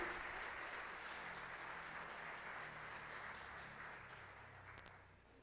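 A church congregation applauds during a sermon, sustained broad clapping heard from a distance that gradually fades toward the end, with no talking over it.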